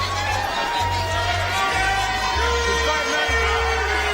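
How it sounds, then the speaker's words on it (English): Crowd at a boxing fight night in Eric Priest's bout, a loud continuous roar of cheering and hubbub from a packed arena, with a sustained low tone droning beneath and someone talking over it. "You hear the crowd going crazy for Priest"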